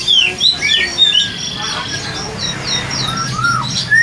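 An oriental magpie-robin sings close by in varied, clear whistled phrases with rising and falling notes, repeating in quick bursts over faint background noise.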